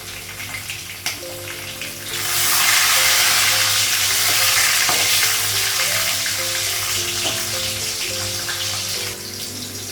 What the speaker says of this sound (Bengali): তেল দিলাম, পাঁচফোড়ন দিচ্ছি, কাঁচা লঙ্কা, শুকনো লঙ্কা